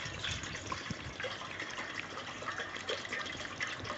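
Water pours from a vessel into a container beside a solar cooker, a continuous soft gushing and splashing with small bubbly changes, close and moderately quiet, without any talk.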